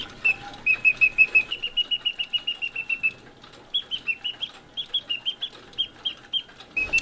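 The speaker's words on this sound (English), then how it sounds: "These are known as singing bird cages, and you wind them up and they mimic the call of a bird" A wind-up clockwork singing bird cage driven by a motor and bellows chirps in rapid repeated high whistled notes, bursts of trills with a brief pause midway, close and fairly loud with no talking.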